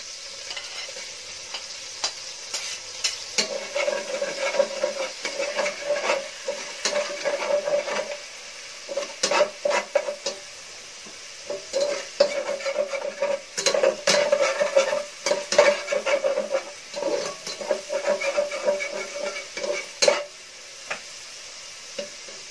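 Garlic sautéing in a pan, a steady sizzle and frying hiss broken by frequent scraping and stirring clatter from a utensil against the pan.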